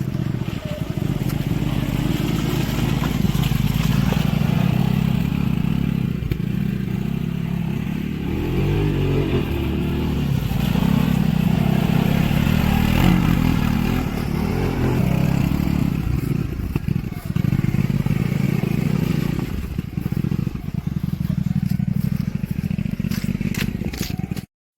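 A Segway Snarler AT6 SX four-wheel-drive ATV is driven nearby, its engine giving a loud, continuous rumbling drone with rattles and scrapes, the revs rising and falling over about twenty-five seconds.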